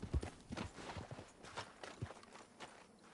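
A horse walks in Red Dead Online, its hooves clip-clopping softly in an uneven rhythm of separate thuds, quiet and close with no talk over them.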